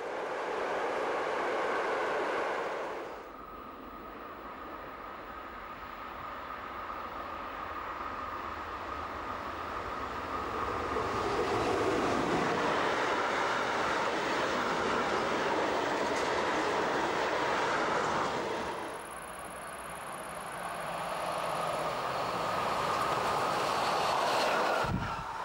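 A DB class 140 electric locomotive hauls a train past on German rails, a loud rumbling roar with rhythmic wheel clatter that swells, dips briefly, then surges again as the cars go by.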